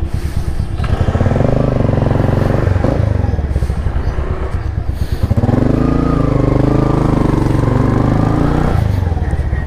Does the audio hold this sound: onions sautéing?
no